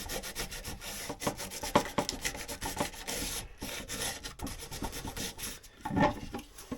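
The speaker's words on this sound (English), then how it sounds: "going to give this little top bit a sand" A small top piece of a battery door is roughed up by hand with 120 grit sandpaper, making quick, close, scratchy back-and-forth strokes in an uneven rhythm.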